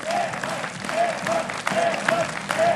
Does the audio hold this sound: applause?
yes